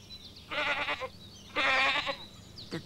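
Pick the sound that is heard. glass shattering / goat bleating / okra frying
goat bleating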